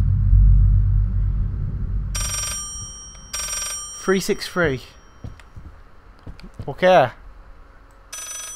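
A telephone rings in the horror video game Layers of Fear, with several short bright bursts of ringing and pauses between them over a low rumble, while a voice talks and exclaims between the rings.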